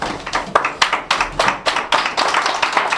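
A church congregation claps hands together in a fast, steady rhythm, sharp close claps repeating roughly every quarter second, loud and continuous with no talk over it.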